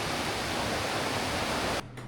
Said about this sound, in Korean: 개곡 물소리 시원하고요.